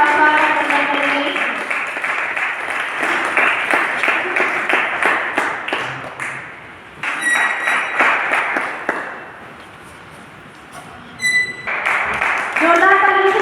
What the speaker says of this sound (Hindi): जोरदार तालियों से उनका स्वागत करना करेंगे